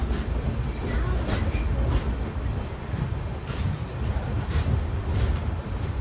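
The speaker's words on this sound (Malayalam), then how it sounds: "വിഴുപുറത്ത് നിന്നും 122 കിലോമീറ്റർ യാത്ര ചെയ്ത് ട്രെയിൻ ഇതാ മയിലാടുതുറൈ ജംഗ്ഷൻ റെയിൽവേ സ്റ്റേഷനിലേക്ക് എത്തുകയാണ്" The Janshatabdi Express rolls into Mayiladuthurai Junction station, a steady close rumble of wheels and carriages with wind buffeting the microphone throughout.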